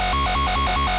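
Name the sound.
dirty formant synth lead processed with Sausage plugin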